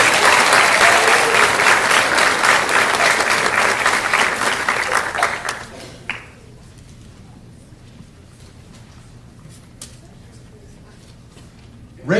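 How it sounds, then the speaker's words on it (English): An audience applauds an 8th grade chorus at a school spring concert, with loud, dense clapping for about five seconds that thins out to a few scattered claps and quiet room noise. "Give them a round of applause."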